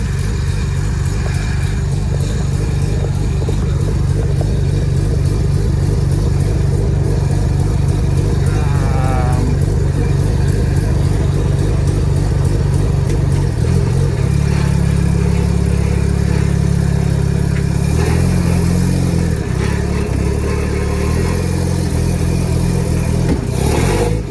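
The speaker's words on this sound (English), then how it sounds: "Exhaust cover sounds like shit." A loud rotary engine on a trike runs steadily and close by, rumbling with a rough exhaust note through an exhaust cover that swells and drops as the throttle shifts, with no talking.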